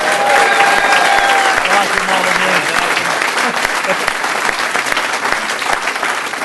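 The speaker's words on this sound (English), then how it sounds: "after he got a cheer" A rugby fan forum crowd applauds and cheers as club figures are introduced, producing dense, loud, sustained clapping that fills the whole stretch with only a slight easing toward the end.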